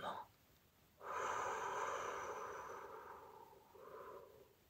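Slow, deep meditative breathing: a brief breath at the start, then a long, loud exhale that fades gradually, followed by a softer breath near the end, close to the microphone.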